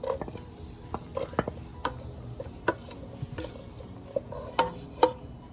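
Onion pieces going into butter melting in a pan over low to medium heat, heard as scattered clinks, taps and soft stirring knocks with a faint sizzle underneath, fairly close and with no talking.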